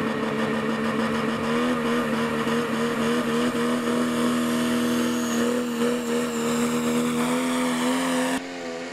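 A diesel pulling truck at a truck and tractor pull spools up during its run, a loud, steady engine roar that holds for several seconds before cutting off abruptly near the end.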